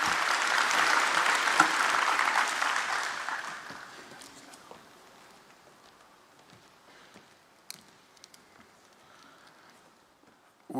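A conference audience at a national transport event claps at the close, a loud burst of applause that fades out after a few seconds into a quiet room with scattered faint knocks and shuffles.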